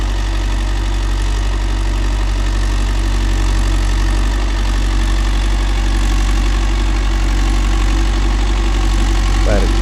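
Mahindra Yuvo Tech Plus 585 4WD shuttle-gear tractor engine running steadily, a loud, constant low drone with a mechanical hum, held close and unbroken throughout, with faint talk in the background.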